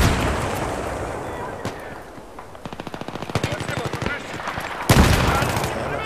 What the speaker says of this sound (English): Oh shit, grenade.